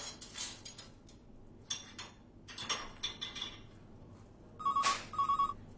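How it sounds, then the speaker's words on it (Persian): An indoor telephone rings in two short electronic bursts near the end, after scattered clinks and light household knocks in a quiet room. "تلفن"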